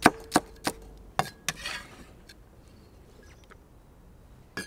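A knife chops carrot and celery on a board in a few sharp, close knocks: quick taps near the start, two more a moment later, then a long pause before one last cut.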